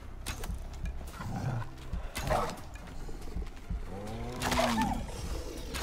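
A bear in the survival game Icarus growls and roars in deep, rough bursts close by. The growls come in two main swells over a busy layer of game noise.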